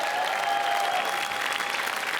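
A large festival audience at the Cannes Film Festival applauds warmly for the singer, a dense, steady wash of clapping that holds at full volume across the whole moment.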